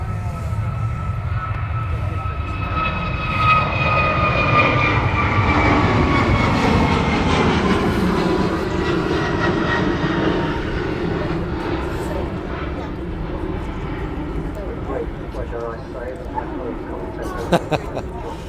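Airliner engines roar at Manchester Airport as an Aer Lingus jet moves, a broad, steady whine swelling and slowly fading, with people talking over it.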